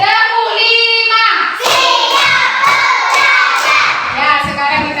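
Pupils in a Banda Aceh classroom do a patterned spirit clap, their voices chanting loudly in unison between tight bursts of collective clapping that strike in a regular beat, close and lively.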